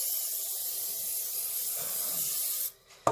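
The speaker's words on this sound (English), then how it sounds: "So we're just going to spray the heck out of this." A steady hissing spray from an aerosol can onto a pan lasts a few seconds, then cuts off, followed by a short clatter.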